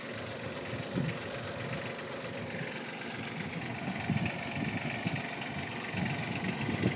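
A steady tractor engine drone runs throughout at moderate loudness in an eggplant field, low rumbling with slight vibration, no talking.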